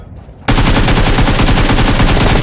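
Gunfire in a shooter video game: after a short quiet lead-in, a loud, rapid automatic burst of shots hammers on without a break for about two seconds.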